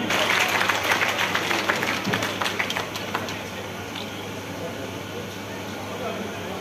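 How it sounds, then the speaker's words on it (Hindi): Crowd at an outdoor election meeting in Poonch welcomes Defence Minister Rajnath Singh with loud applause that thins out and fades to a murmuring background with a steady hum. "जोरदार तालियों से आदरणीय राजनाथ सिंह का स्वागत करें"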